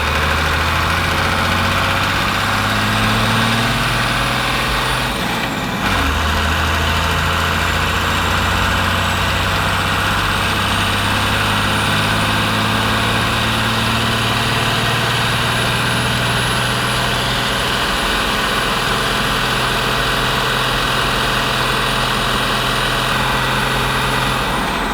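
Cummins diesel engine swapped into a Toyota Land Cruiser pulling hard through third and fourth gear onto a highway: a loud, continuous low drone with rising whine, a brief dip at a shift, then sustained climbing roar and road noise.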